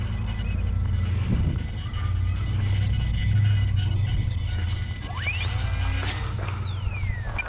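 Small UMX Eratix radio-controlled airplane in flight outdoors, its electric motor whine rising sharply and holding high before falling away as it passes, over steady low wind rumble.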